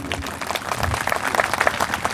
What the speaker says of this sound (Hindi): खुद के लिए एक बार जोरदार ताली हो जाए